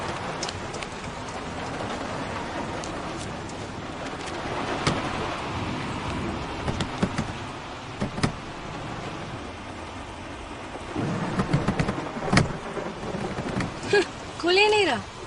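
Heavy rain pours steadily around a stalled car, with a dense hiss and a few heavier thumps of thunder or rumble. Voices speak briefly over the downpour near the end.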